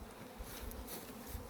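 A swarm of honeybees arriving at hives in an apiary gives off a steady, dense buzzing that stays at an even level throughout, faint and somewhat distant, with no voices over it.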